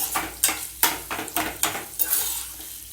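Potato masala for bonda being stirred and sautéed in a pan, a steady series of scraping spatula strokes over a gentle sizzle, close and clear with no talk.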